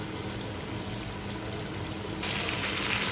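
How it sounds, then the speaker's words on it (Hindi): Water pours steadily into a cooking pot of rice, a continuous close splashing gush that grows a little louder and brighter near the end, with no talk. "हम इसके अंदर पानी डालेंगे"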